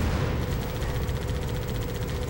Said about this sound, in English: I'm just gonna kind of mow you down with my turret